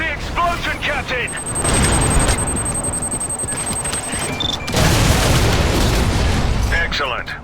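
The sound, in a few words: explosion of explosives on AA battery in Section 8: Prejudice video game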